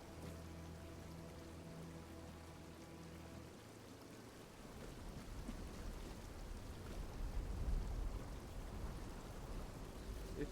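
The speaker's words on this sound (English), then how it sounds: "There is a waterfall here." A waterfall in the video game Tainted Grail: The Fall of Avalon rises into a steady, broad rushing roar as soft musical tones fade, growing louder and holding through the rest.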